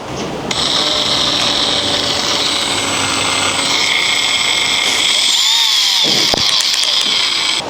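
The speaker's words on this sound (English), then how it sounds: "I'm going to put it in the drill though, and let's see what we can do with it." A power drill spins a cheap tool attachment, giving a loud, steady high-pitched whine that runs almost throughout, with a brief dip near the end.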